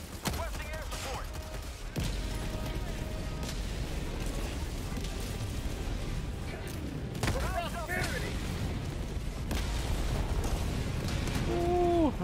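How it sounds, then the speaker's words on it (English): Continuous rumbling explosions and gunfire surround the player in the video game Helldivers 2, dense and loud throughout with a voice talking over the battle. "Ooh, that's a lot of explosions around me."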